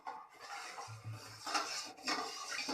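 A spoon stirs sugar syrup in a pan for gulab jamun, producing faint scraping and light metallic clinks against the pan amid soft bubbling.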